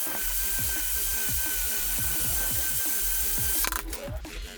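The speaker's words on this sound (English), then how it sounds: "So we gotta grind this one off, put the master link in there." An angle grinder cuts through a link of the drive chain on a 2005 Kawasaki ZX-636, a steady loud whine with a high tone that runs throughout, then breaks off into rough scraping near the end.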